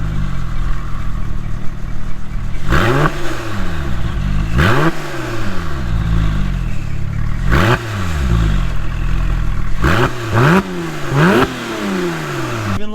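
Engine of a wrecked car at an insurance salvage auction, warmed up and idling, is blipped repeatedly. Loud, close revs surge and fall back about six times over a steady rumbling idle, with no talking.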